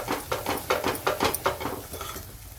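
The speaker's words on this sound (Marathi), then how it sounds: "थोडीशी हळद टाकायची आता याला पण परतून घ्यायचंय" Red chili powder and turmeric being stir-fried in a pan for a ridged gourd dish, a quick run of close scraping and clinking spatula strokes over a faint sizzle that trails off, with no talking.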